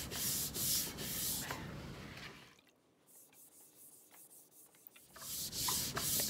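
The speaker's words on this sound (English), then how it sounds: "Gonna clean up the mold with a slightly scrubber pad." Scrubber pad rubbing over a plaster hump mold used for drape molding clay slabs, a steady close abrasive swishing in repeated strokes, pausing briefly midway before resuming.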